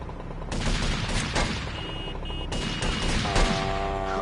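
Gunfire in GTA Vice City: a few sharp shots and a crashing burst over a dense, loud game background, with no talking.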